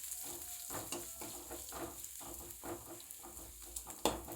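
Large onions sauté in a hot pan, sizzling softly under repeated scrapes and stirs of a spatula, with a sharper clack near the end.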